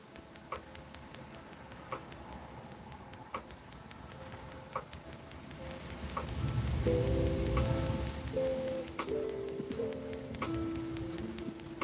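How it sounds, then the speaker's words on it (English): Rain falls just beyond an open window, a steady soft hiss with scattered drips and ticks that swells noticeably heavier partway through, while faint tones sound in the room. "It started raining again."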